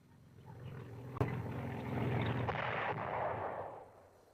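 Mines detonate under a German tank in a WW2 US Army training film, a heavy booming blast with a sharp crack followed by a long rolling roar that swells and fades over a few seconds.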